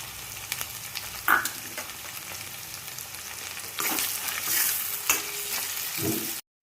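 Garlic and chillies sauté and sizzle in a pan for a pasta dish with onion and tomato, with steady close frying hiss, occasional stirring scrapes and a louder burst of sizzling toward the end.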